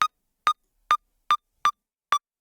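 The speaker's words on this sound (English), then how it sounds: "Without any processing, the pluck sounds like this." Six short, dry synth plucks with a downward pitch bend and no processing, evenly spaced and bright, each a clipped tone separated by silence.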